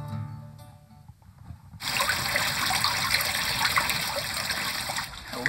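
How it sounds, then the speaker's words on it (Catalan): Cool spring water runs steadily from a fountain in the Serra d'Espadà, splashing and trickling with a continuous full rush close by. A quieter interval comes first, before the flow swells up. "Agüita fresca"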